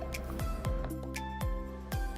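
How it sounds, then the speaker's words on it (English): Hot water drips through a Vietnamese coffee filter, about four distinct close drops falling at a slow, regular rhythm over faint background music. "The water should take about 5 minutes to pass through the filter."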